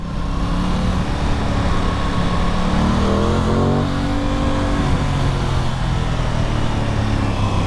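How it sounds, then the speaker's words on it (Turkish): An Aprilia Tuono 660 motorcycle engine runs steadily and loudly throughout, its pitch rising briefly mid-way as if revving, then settling back to a constant drone. "motor sesi güzel"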